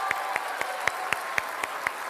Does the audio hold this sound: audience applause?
yes